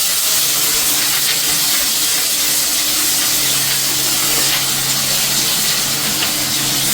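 Onion, garlic and chili fry in hot oil in a wok, giving a loud, continuous sizzle and steamy hiss that holds steady throughout.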